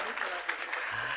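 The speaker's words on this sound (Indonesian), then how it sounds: "boleh berikan tepuk tangan sekali lagi untuk juara 3 kita" Audience applause at a law competition's closing ceremony honoring the third-place winners: a short, steady wash of clapping with a voice talking over it.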